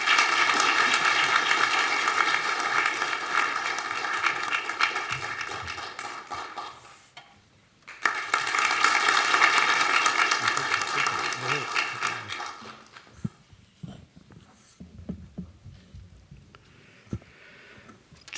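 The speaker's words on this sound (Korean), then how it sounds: "김중수 전 총장님을 박수로 단상으로 모시겠습니다." An audience at an award ceremony in a hall applauds loudly and steadily for several seconds, pauses briefly, then claps again in a sustained wave. The applause fades out, and quieter room sounds and faint speech follow.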